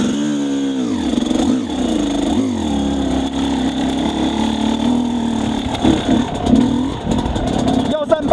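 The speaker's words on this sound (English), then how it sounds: "Both times the engine stalled." An XTNG GEN3+ 36 motorcycle engine revs with falling, sweeping tones, then settles into a rough, uneven idle that sputters toward stalling, loud and close, with a voice talking over it.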